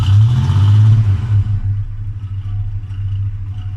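A faulty car engine, started after the gas pedal is pumped, rumbles loudly and briefly revs before dropping to a lower, steady idle, close by with no talking.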